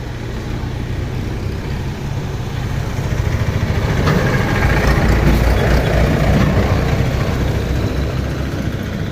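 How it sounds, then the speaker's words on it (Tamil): Vehicles passing on a busy main road beside a house, a continuous engine rumble that swells and fades as traffic goes by, close and fairly loud, with no talking. "நம்ம வீடு கொஞ்சம் மெயின் ரோட்டில் இருக்கிறதுனால வண்டி போகிற சத்தம் வர சத்தம் கேட்டுகிட்டே இருக்குங்க"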